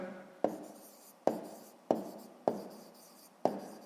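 Five sharp, evenly spaced strokes of writing, each a crisp tap fading quickly, come from someone working a sixth-grade maths exercise on triangle perimeter, close and without talk.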